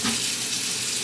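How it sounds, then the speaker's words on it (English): A pan rinsed under a running kitchen tap, a steady bright hiss of flowing water splashing in the sink, brief and close. "So I'm rinsing the pan out."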